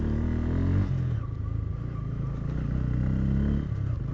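A Bajaj Pulsar N160 motorcycle rides off-road over large rocks, its engine droning steadily up close with rises in revs and some rattling and clatter from the rough ground.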